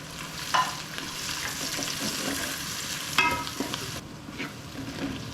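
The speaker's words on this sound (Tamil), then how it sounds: "தக்காளியை சேர்த்துருவோம்." Tomatoes are stir-fried in a pan while making ghee rice, giving a steady, close sizzle and frying hiss with occasional scraping clinks of a spoon against the pan.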